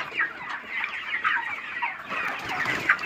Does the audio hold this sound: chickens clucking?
yes